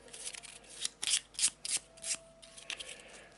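A deck of horror cards from the Mansions of Madness board game is shuffled: a run of crisp riffles and slaps, close and fairly quiet, with no talking.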